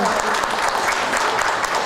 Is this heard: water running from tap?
no